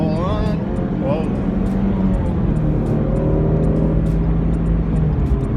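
A 2017 Ford Mustang GT350 accelerating hard, its loud engine roar heard from inside the car and rising steadily in pitch throughout, with a brief burst of voice early on.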